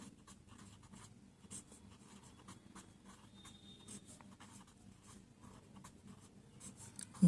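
Pen or chalk writing on a surface during a math lesson, faint scratchy strokes in irregular bursts with quiet room noise.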